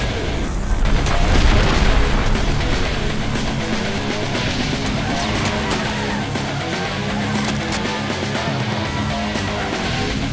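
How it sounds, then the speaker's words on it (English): An airstrike in the Hot Wheels: Beat That! racing game lands as a heavy rumbling boom that swells early, then trails into a sustained dense roar of crackling blasts and engine noise for about ten seconds. "Airstrike imminent."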